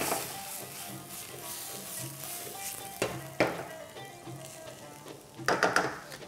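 Mushrooms and vegetables being stir-fried for daging masak kicap: a steady sizzle in a hot pan, broken by a few louder scraping stirs near the end, with no talking.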